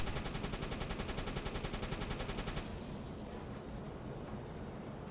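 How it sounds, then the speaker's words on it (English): Aircraft machine gun fire in the naval game UBOAT, a dense rapid rattle of bursts that runs steadily for a few seconds and then dissolves into a loud, rushing wash of engine and sea noise. "They've got, like, some machine gun fire coming from their aircraft."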